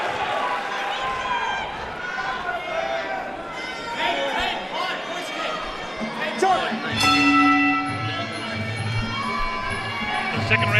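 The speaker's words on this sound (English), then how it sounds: "the crowd's really getting into it" Boxing match crowd cheering and shouting through the venue, a busy swell of voices with scattered whistles and calls rising in bursts, with a commentator talking over it.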